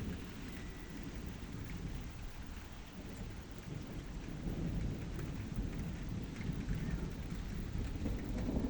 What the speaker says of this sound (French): Il y a un orage ici, là.